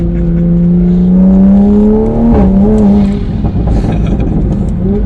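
A tuned Toyota A90 Supra spinning its tires on dirt, the engine holding a loud, sustained high rev that dips briefly and then climbs and whines again.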